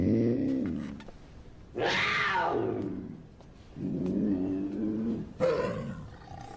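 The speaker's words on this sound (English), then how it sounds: "It's a puma." A puma growls and snarls up close, with several rough, throaty bursts including a rising, strained yowl in the middle and a sharp snarl near the end, loud and separated by short pauses.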